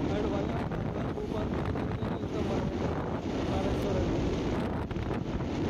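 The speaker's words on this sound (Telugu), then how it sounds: "ఇక్కడ నుండి పొలాల్లో నుండి వచ్చే గాలి అయితే ఇంకా ఫ్రెష్ ఉంటుంది" Wind rushes past while riding a scooter through open farm fields on a road trip from Hyderabad to Kaleshwaram, a constant loud buffeting roar that masks most other sound.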